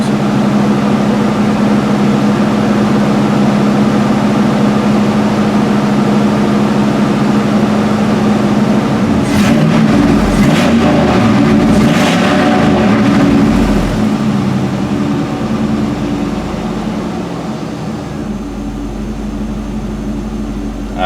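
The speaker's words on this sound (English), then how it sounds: "I can tell you that pump is so much quieter." A newly installed fuel pump in a 1976 Chevrolet Malibu runs with a steady low hum and mechanical drone close by, with a brief burst of rattling midway before the sound settles and fades slightly near the end.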